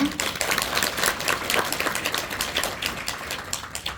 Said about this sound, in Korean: 발표 도와주신 서지현 연구자님께 큰 박수 부탁드립니다